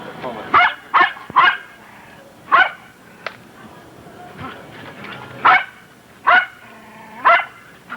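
A dog barks in short bursts, a quick run of three, then scattered single barks and whimpers, fairly close and loud, with quiet gaps between.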